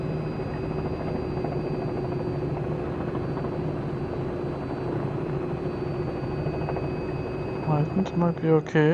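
A helicopter in Microsoft Flight Simulator 2020 descending onto a helipad, its steady rotor and engine drone with a tonal whine holding throughout, someone speaking briefly over it near the end.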